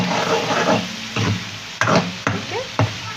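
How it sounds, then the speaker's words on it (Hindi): Chicken karahi with fresh coriander and green chili being stirred in a pan: a steady frying sizzle broken by several firm scraping strokes of a spoon against the metal, close and loud, no talking. "हरा धनिया, हरी मिर्च, मिक्स कर लेती हूँ।"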